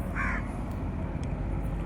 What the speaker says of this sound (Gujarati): અહીંયા જોયું તો એક પક્ષી પડી ગયું છે